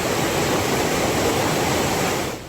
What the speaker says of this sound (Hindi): कहीं लहरें तबाही मचाने को दौड़ रही